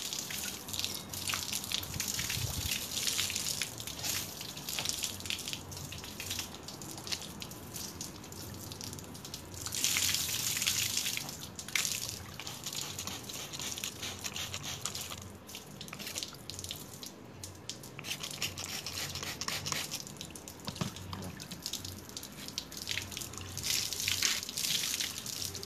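Running water rinses a photographic print in a darkroom sink during an alternative analog printing class, a steady close splashing flow with drips and faucet hiss that swells and eases throughout.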